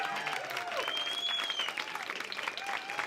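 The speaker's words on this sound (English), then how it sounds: "Give yourselves a huge round of applause." A comedy club audience claps and cheers continuously, a dense wash of applause with a few whoops rising above it.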